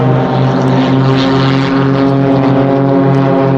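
A Global Stars aerobatic propeller plane pulls up at Duxford Air Festival, its engine a loud, close, continuous buzzing drone with strong steady harmonics for the whole moment.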